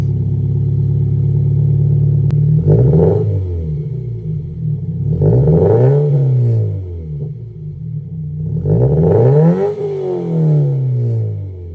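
A 2020 Toyota 86 GT with a stock engine and aftermarket axle-back exhaust idles with a deep burble, then revs up three times, each rev rising and falling back to a low rumble.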